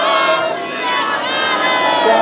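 A large crowd at a Kisan Ekta farmers' solidarity gathering in Hamburg, Germany, roars the Sikh jaikara response in unison, a loud, sustained wall of massed voices with no single speaker standing out.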